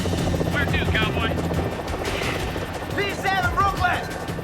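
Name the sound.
helicopter flying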